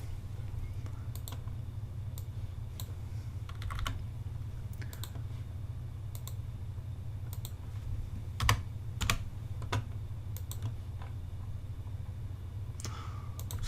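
Computer keyboard typing and mouse clicking at a desk while working in an email lead-mailing system, steady soft keystrokes with a few sharper clicks over a constant low hum, no talking.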